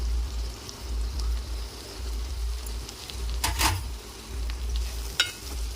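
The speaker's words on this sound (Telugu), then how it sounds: "పసుపు వేసేసి కలుపుకోవాలి మొత్తం." Broad beans (chikkudu) that have finished frying in a pan have turmeric stirred through them, giving a soft steady sizzle with a few scraping utensil strokes and light clatter, close and alone.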